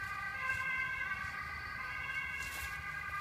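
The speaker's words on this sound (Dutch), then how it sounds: "Ik ben bang voor die ambulance" An ambulance siren wails steadily at a distance with a continuous tonal pattern, heard outdoors over low background rumble while a dog is walked.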